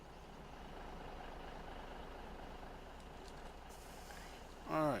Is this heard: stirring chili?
no